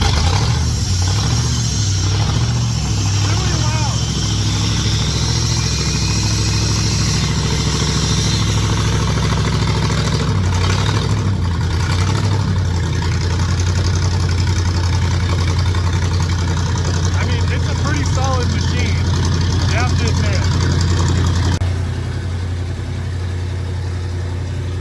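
A V8 engine driving an air compressor runs steadily after starting, a loud continuous low rumble and drone with slight shifts in pitch, idling roughly throughout and close by.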